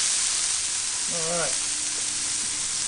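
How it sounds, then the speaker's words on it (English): Water poured onto a hot Camp Chef griddle beside a cooking patty melt, a loud steady hiss of steam and sizzle filling the whole stretch, with a brief spoken word over it. "A little bit of water. The steam helps melt the cheese."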